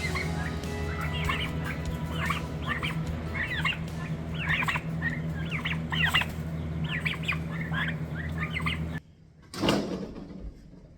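About five-week-old turkey poults keep up a dense chorus of high chirping peeps in a steady, busy stream over a low hum, broken near the end by a sudden silence and then a scraping knock.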